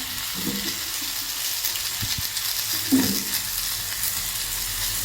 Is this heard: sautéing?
yes